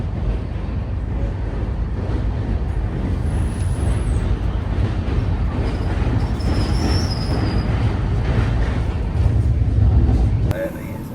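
Tejas Express train rolling into Ratlam railway station, a loud steady rumble of wheels on track with faint high squeals, ending in a sharp drop as the noise cuts off.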